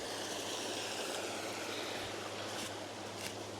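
A small creek in a low wooded area of the Jocassee Gorges in fall rushes steadily, a constant close wash of flowing water with no other sounds.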